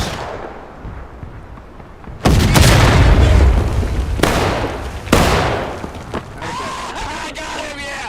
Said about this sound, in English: Shoot into that fucking bush.